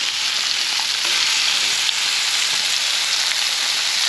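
Bacon strips fry on a Blackstone griddle with a steady, loud, close sizzle and faint crackles, and no voices.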